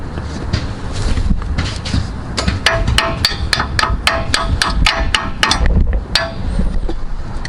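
Sharp metallic hammer taps ring out in a quick irregular series while the front CV axle on a 2013 Nissan Rogue is knocked loose, close and loud over steady background noise.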